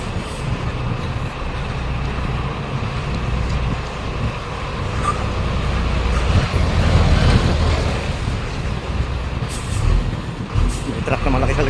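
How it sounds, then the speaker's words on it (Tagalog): A large truck hauling a container rumbles along behind on an early-morning road, its low engine drone swelling as it nears and passes, with brief hissy air-brake bursts toward the end. "May truck na malaki sa likod."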